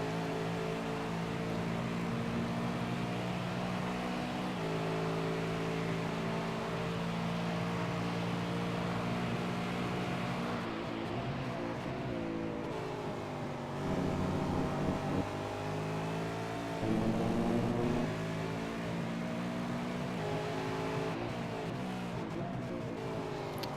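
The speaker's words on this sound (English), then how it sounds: "So we're on board Justin Ruggier as he starts his lap." Onboard V8 race car lapping Road America, its engine a steady loud harmonic drone that rises and falls in pitch through gear changes and corners, running continuously throughout.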